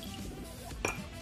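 A brief bright clink of a glass as bourbon is poured into a slightly fancier Scotch glass, a single sharp tap over a low murmuring background.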